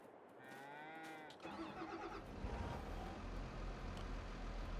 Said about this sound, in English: And now the cows are, well, they're getting a little excited over there.